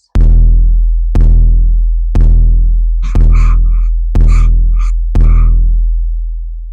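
Six heavy, booming 808-style kick drum hits made in Ableton Live with a Tascam, warmed by tube saturation and washed in reverb, land one per second, each a loud deep thump with a long decaying tail; some carry an airy gasping layer on top.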